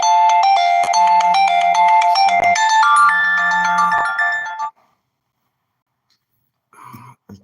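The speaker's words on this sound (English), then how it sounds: "I was getting a phone call" A phone rings with an incoming call, a loud melodic ringtone playing continuously for several seconds close by before cutting off, followed by silence and a brief throat-clearing sound.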